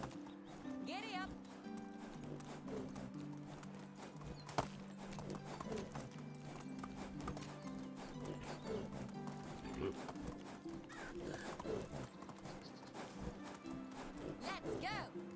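Riding horse in the medieval survival game Medieval Dynasty, hooves clip-clopping in a steady rhythm over game music, with a rider talking over it throughout.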